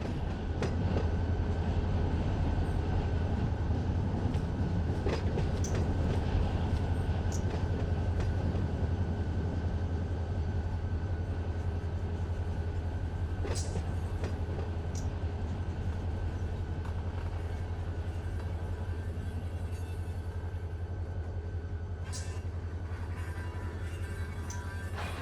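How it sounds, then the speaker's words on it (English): Freight train rolling in Run 8 Train Simulator on the Fresno to Modesto route, a steady low rumble of the consist with scattered wheel clicks and squeals, continuous and even throughout with no talk. "let's reconnect to our train here."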